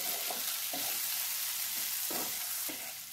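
Cauliflower tossed with fried capsicum, tomato and onion in a pan, a quiet steady sizzle broken by several rhythmic scraping stirs, close and without speech.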